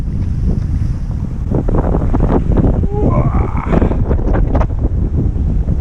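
Strong wind buffets the microphone while sea waves wash and slosh around a boat, loud and continuous, with a faint voice briefly underneath.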